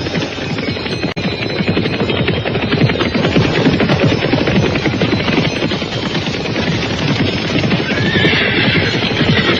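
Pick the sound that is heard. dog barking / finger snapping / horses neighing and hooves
horses neighing and hooves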